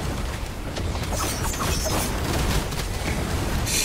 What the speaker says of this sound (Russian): Взрываем.